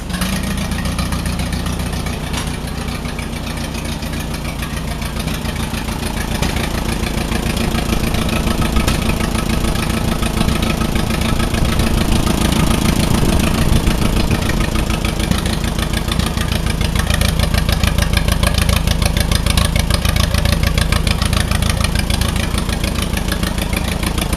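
An Allis-Chalmers WD45 tractor engine runs steadily with its choke pulled out, a loud, continuous mid-pitched drone with a rough, knocking pulse that holds throughout.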